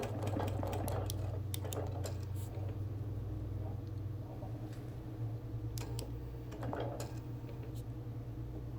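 A sewing machine steadily quilts a wool appliquéd quilt, a continuous low hum with faint ticking, while children's playground noise carries in the background.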